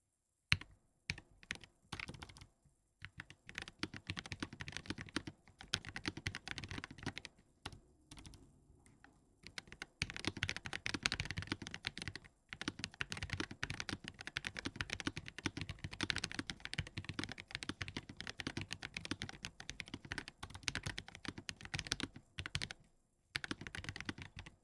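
Fast bursts of typing on a computer keyboard fitted with silent keys, producing soft, muffled clicks in quick irregular runs with short pauses, close and quiet.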